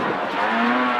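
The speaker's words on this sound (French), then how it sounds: "Allez, un beau freinage." A rally car on a stage at the Rallye du Camisard brakes hard, the engine note dropping with a rising tonal squeal, close and loud for about a second.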